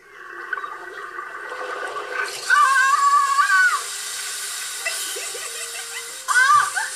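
Water rushes from a garden hose in a hissing spray that swells and fades in bursts, with faint voices in the background.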